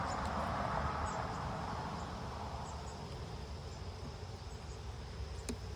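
Honey bees hum steadily around an open hive during a summer hive check, a soft continuous buzz close by, with no talking.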